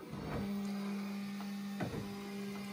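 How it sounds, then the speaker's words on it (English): A Bambu Lab P1S 3D printer unloads filament with a steady mechanical hum, broken by a few short motor whirs and clicks. "So it has to heat that nozzle up first before it can pull the filament"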